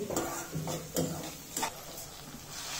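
Finely chopped onion sautés in a pan while a spoon stirs it, a low sizzle beneath a handful of spaced, distinct scraping knocks against the pan, close and fairly quiet, no speech.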